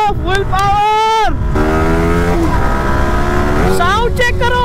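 A motorcycle revs hard at full power with rising and falling engine pitch while its tyre skids, loud and close throughout, with a person talking over it.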